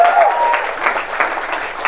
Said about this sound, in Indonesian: Tepuk tangan buat SSJ.